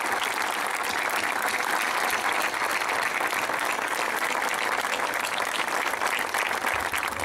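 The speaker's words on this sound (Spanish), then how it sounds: "el mejor de los aplausos para los abanderados, los docentes que hoy están aquí con nosotros" Dense, steady applause from a large crowd at a November 4 commemorative civic ceremony, honoring flag bearers and teachers, sustained evenly and loudly throughout.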